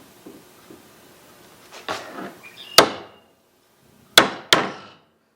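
Several sharp taps of a hammer on a chisel squaring up corners while finishing a screened porch, coming in small clusters of two or three strikes with short gaps between, close and fairly loud.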